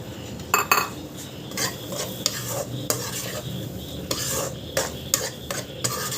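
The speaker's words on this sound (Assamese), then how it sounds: "এইখিনি ভজা হৈ গ'ল" Fenugreek, coriander and other spices sizzle in hot oil in a pan for chole while a metal utensil stirs and scrapes against it, with repeated close clinks over a steady frying hiss.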